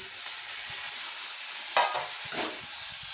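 Doddapatre (Indian borage) leaves frying in a pan give a steady hiss of sizzle, with two brief louder crackles as they are tossed in, close by and without talk.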